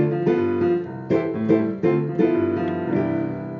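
Piano playing a jazzy 1-6-2-5 chord progression, four rich chords struck in turn with rolled notes and sustained ringing, moderately loud and alone.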